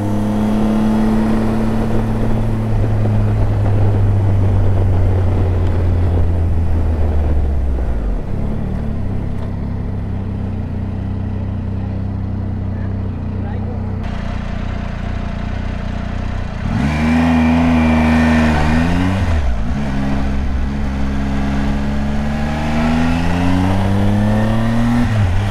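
A Triumph Tiger 800 XCa motorcycle rides through city traffic, its mid-range engine droning steadily close by, with the pitch rising and falling as the bike revs and changes speed.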